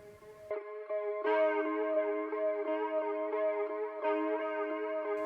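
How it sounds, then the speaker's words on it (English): A distorted guitar sustains layered, buzzing chords with a washy reverb tail, sounding distant and hazy as new notes swell in. "I added a destructor with these settings, a high and low pass EQ, and ending the chain with a reverb"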